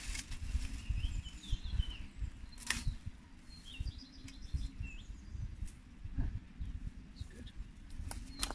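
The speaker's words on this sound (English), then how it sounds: "And listen to all those birds." Birds chirp and sing outdoors on a sunny day, with scattered high calls over a steady low rumble of background noise and occasional clatter.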